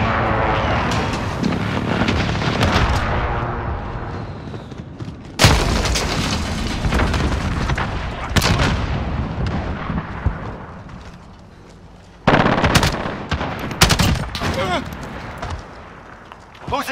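Loud booming airstrike explosions and bursts of gunfire in the Call of Duty: Modern Warfare video game, with big impacts recurring through the battle and voices talking over the combat noise.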